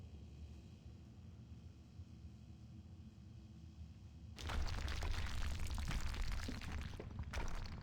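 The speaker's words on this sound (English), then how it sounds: "just wait for the explosion" A game explosion in World of Warcraft's Gnomeregan dungeon: after a quiet low rumble, a sudden loud deep blast erupts and rolls on as a sustained roaring rumble.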